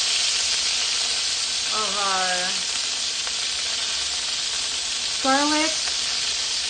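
Garlic frying in a pan for Filipino pancit, a steady close sizzling hiss that runs throughout while a voice speaks briefly twice over it.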